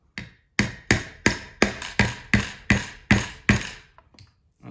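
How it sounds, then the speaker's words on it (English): A hammer strikes a broken PS3 Guitar Hero guitar controller about ten times in a steady rhythm. The blows are sharp, loud and close, each one decaying quickly before the next, with no talking. "Need more force. Let's get a hammer."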